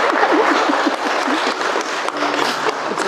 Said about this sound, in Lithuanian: o mes plojimais pasveikinti